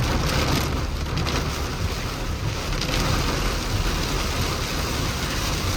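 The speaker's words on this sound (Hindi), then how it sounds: "ये है तेज बारिश।" Heavy rain pours in the dark, foggy mountains during a night drive on a national highway near Agumbe, a steady, dense roar of rain and wind noise that never lets up.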